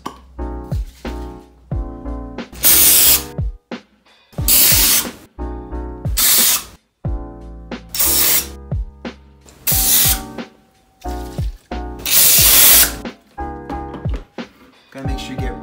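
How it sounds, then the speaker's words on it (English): Pam cooking spray coats a novelty penis-shaped brownie baking pan in about six long, loud hissing bursts, with faint clinks and handling knocks in the gaps between sprays. "we need to grease it with Pam"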